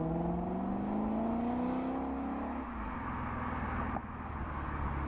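A Lexus GS F engine hums and rises in pitch as it accelerates, a steady droning exhaust note heard from inside or close by.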